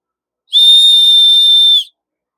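One loud, shrill blast from the survival whistle on a Leatherman Signal multitool, steady and piercing, lasts just over a second, then stops abruptly into silence.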